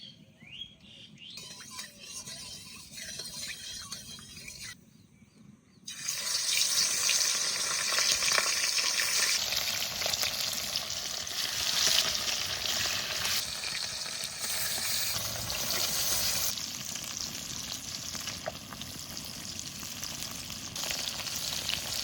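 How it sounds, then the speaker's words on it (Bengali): Fish fries in mustard oil with a loud, sustained sizzle that surges after a quieter opening, while faint bird chirps sound in the outdoor village background. "এবার মাছ ভেজে নেবো"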